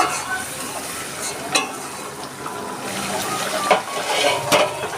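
Eggs slide into a pan of shahi egg curry, a steady sizzle and frying hiss with occasional stirring scrapes and utensil clinks close by, no voices.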